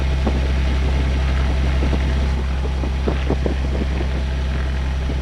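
A steady, droning propeller engine hum from a taxiing Columbia 400 fills the scene with a constant low rumble, with faint intermittent knocks and clicks over it.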